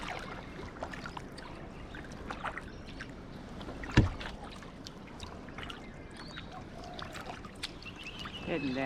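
A kayak paddled along the Brisbane River in the morning: soft, faint paddle strokes and water trickling in a gentle rhythm, with one sharp knock partway through.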